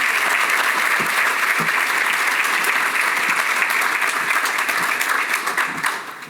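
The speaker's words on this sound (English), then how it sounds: "Can we give another round of applause to the Field Foundation?" An audience at a Chicago event on investing in Black men and fathers applauds the Field Foundation, a steady, dense wash of many hands clapping close by that holds loud throughout and tapers slightly at the end.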